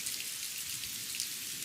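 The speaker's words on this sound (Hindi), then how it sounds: "मूसलाधार बारिश ने और जोर पकड़ लिया।" Heavy torrential rain pours steadily in a cartoon story, a dense, even hiss of countless drops with a low rumble underneath. It is close and continuous with no voices.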